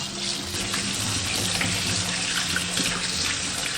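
Tap water running steadily while a Sichuan pickle jar is rinsed clean, a continuous close splashing gush with faint clinks of the container.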